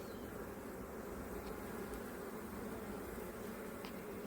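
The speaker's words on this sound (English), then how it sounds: "Piles of bees coming in," Honey bees flying into a hive at a busy apiary: a steady, dense droning hum of many wings, continuous and fairly faint, with no voices.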